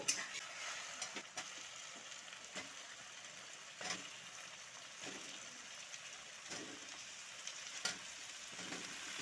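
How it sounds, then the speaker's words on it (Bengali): Pumpkin sizzles in hot oil with onion for a Bengali fish-head pumpkin curry. A faint, steady frying hiss runs throughout, broken by occasional soft scrapes of stirring. "কুমড়োটা একটু ভালো করে এই তেলে ভেজে নেব"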